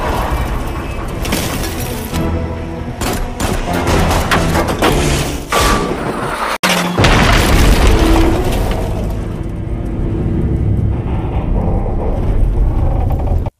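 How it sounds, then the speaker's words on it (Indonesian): Bazooka rounds hit a car in an action film: heavy booming blasts and shattering impacts, loud and close, with crashing debris and rumbling that continues between the hits. "Ia menembak mobil itu dengan bazooka."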